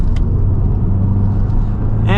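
Turbocharged FA24 engine of a 2022 Subaru WRX (STI modified) during a canyon drive, a steady loud low drone heard from inside the car throughout, with a brief rising tonal whine near the end.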